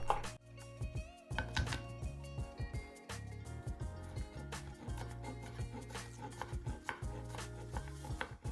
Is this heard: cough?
no